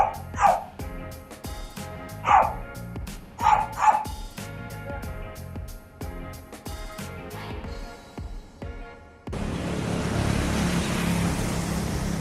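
Dog barking in bursts of a few loud, close woofs, spread across several seconds beside passing road or water noise, ending in a steady broad rush.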